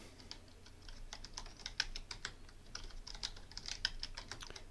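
Rapid keystrokes on a computer keyboard as a username is entered during a Thycotic Secret Server v10.9 installation, close and crisp, with irregular bursts of clicks over a faint steady background hum.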